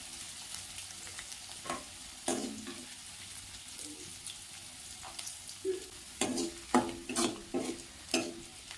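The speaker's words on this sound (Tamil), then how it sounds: "நல்லா ப்ரௌன் கலராக மாற வரைக்கும் வதங்கட்டும்." Ivy gourd poriyal sautéing in a pan with onions until browned. A soft steady sizzle runs throughout, broken by scattered scraping stirs of a spoon that grow more frequent toward the end.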